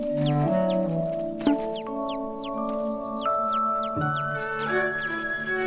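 Cartoon chicken clucking from an animated Miss Spider episode, a few short pitched bird calls repeating over sustained musical score tones, fairly loud and continuous, with no talking.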